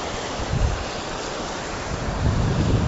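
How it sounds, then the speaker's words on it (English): Water rushes beneath a footbridge over a waterfall as a loud, continuous broadband roar, mixed with gusty wind buffeting the microphone and swelling toward the end, with no voices. "Now we're about to walk on the bridge that goes over the waterfall."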